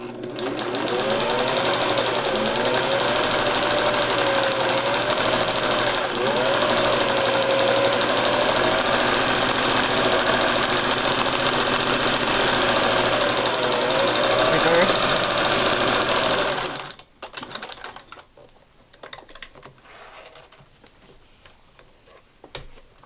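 A vintage Singer 401A sewing machine runs steadily and loudly for about seventeen seconds, stitching through four layers of denim with a fast mechanical whir and ticking, then stops, leaving faint handling noises.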